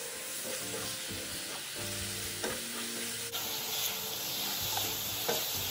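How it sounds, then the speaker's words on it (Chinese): Pork slices stir-fried in sauce over high heat for fried pork rib noodles make a constant close sizzle, with repeated utensil clacks and scrapes against the wok as it is tossed; no speech. "高火快速拌炒，"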